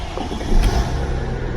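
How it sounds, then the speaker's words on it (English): A 2013 Mercedes E320 with a battery system problem starts up, the engine catching and settling into a loud, close, rumbling idle with no talk. "Okay, so I'll just start the car real quick."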